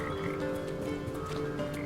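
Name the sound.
frogs croaking in the video game Papo & Yo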